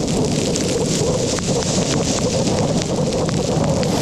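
A heavy rain shower pours during a bicycle trip across northern France between Calais and Paris, a steady, loud, dense hiss with gusty wind noise and no break.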